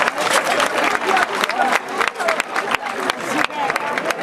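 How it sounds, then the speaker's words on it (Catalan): A crowd claps for a Catalan Ball de Diables devils' dance performance, a rapid, uneven patter of many hands that carries on throughout while voices talk over it. "Ja surten. Un aplaudiment!"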